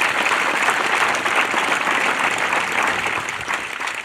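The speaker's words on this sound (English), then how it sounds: "if we could give a round of applause for the Cadet Command team" Steady, dense applause from a large outdoor crowd at an Army cadet graduation, a continuous wash of clapping holding at full strength throughout.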